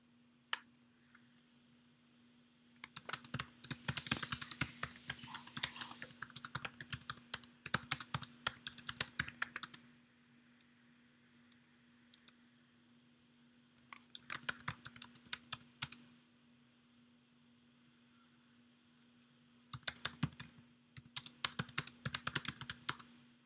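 Typing on a computer keyboard during a livestream comes in three bursts of rapid clicking separated by quiet pauses, close and moderately soft over a steady low electrical hum.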